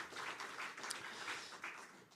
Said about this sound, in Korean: 박수 환영하겠습니다.